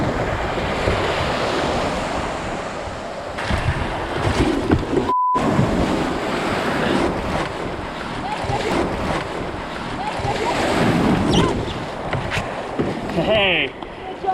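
Big waves on Lake Winnipeg breaking and surging against the shore, a steady loud roar of surf with swelling crashes and wind noise, and voices talking faintly in places.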